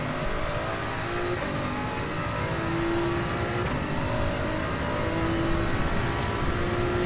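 A Gr.3 race car engine in Gran Turismo 7 at the Red Bull Ring or Daytona, droning steadily at high revs with slight pitch shifts through the gears, loud and continuous.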